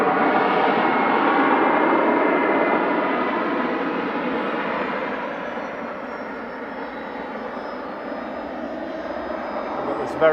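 A Gulfstream business jet on approach to land at Manchester Airport gives a steady, broad jet roar that slowly fades, heard from a distance as a continuous wash of engine noise.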